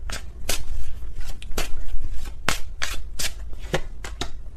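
Tarot cards shuffled by hand close up, a rapid series of crisp riffling bursts and papery slaps in an uneven rhythm, loud and alone with no talking.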